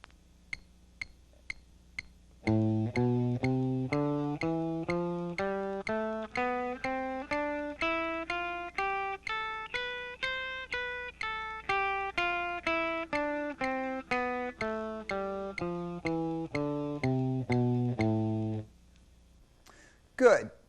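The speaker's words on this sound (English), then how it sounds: "With the metronome set at 120," Metronome at 120 beats per minute clicking steadily, with a rock guitar playing a rising and falling blues scale run in time over the clicks; the guitar is clear and close, ending on a brief final strum.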